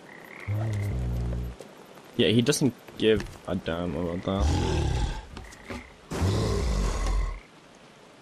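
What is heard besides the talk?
frogs croaking in the video game Papo & Yo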